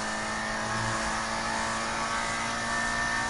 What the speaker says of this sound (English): That's a Mitsubishi Lancer